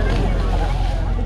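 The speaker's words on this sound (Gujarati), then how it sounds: "ઉપરથી થોડી વારમાં સ્ટાર્ટ થઈ ચૂકી છે આપણી બોટ" A motor boat on the crossing from Bet Dwarka back to Okha, its engine a continuous loud low drone mixed with wind buffeting and water noise, close and steady for the whole moment.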